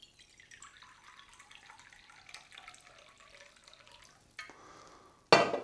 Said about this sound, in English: So we'll get 3/4 of a cup of water.